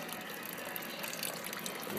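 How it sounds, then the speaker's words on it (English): Wort drains steadily from a mash tun on an IPA brew day, a continuous gushing, splashing flow of liquid that stays even in level and close by, with no pauses. "as the wort is draining out"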